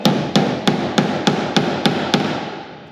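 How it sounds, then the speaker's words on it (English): Hammer blows on a car body panel to straighten a bend, eight sharp metallic strikes at a steady rhythm, close and loud, each ringing briefly into the next. "take the hammer."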